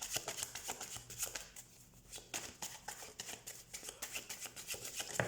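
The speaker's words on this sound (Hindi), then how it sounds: "तो सबसे पहले हम कार्ड शफल कर लेते हैं।" Tarot cards shuffled by hand in a fairly quiet room, a run of crisp riffling and slapping bursts with short pauses between them, close and moderately loud with no talking.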